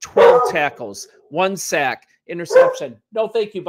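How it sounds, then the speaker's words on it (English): A dog barks a few times in the background while someone talks steadily about football, the barks partly masked by his speech. "Sorry, that's my dog."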